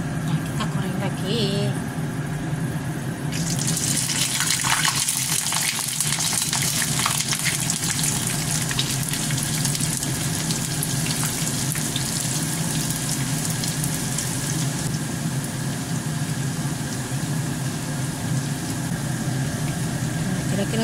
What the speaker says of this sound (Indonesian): Nah, kita goreng lagi.